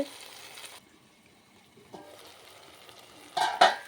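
A capsicum and peanut curry is stirred in a pan, with quiet scraping strokes at the start, a soft knock midway and a louder pair of clattering scrapes at the end, over near silence and without voices.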